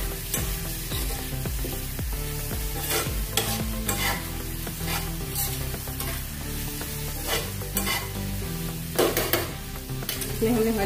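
A grated ginger mixture is stirred in a pan, a spoon scraping steadily against the metal while the food sizzles quietly underneath.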